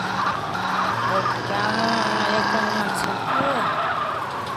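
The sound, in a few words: car driving and skidding in video game GTA San Andreas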